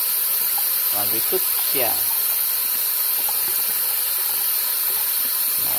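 Water sprays and hisses steadily while bisque-fired pottery pots are washed after their first firing, with a person speaking briefly over the constant rush.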